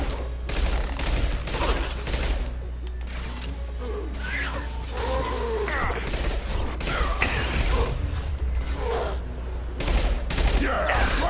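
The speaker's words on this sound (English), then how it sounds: "Firing a high impact shot." A high-impact shot fires in a sci-fi shooter amid constant gunfire and mechanical clatter. Dense, loud bursts layer over a steady low rumble, with game voices briefly heard in the mix.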